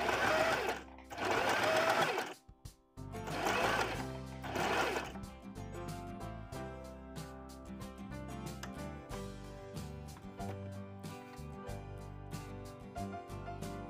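A Wonder Stitch Plus sewing machine stitching embroidery: a steady, fast mechanical whir and rapid needle clatter, close and continuous, with brief pauses and changes in pace near the start before settling into an even run.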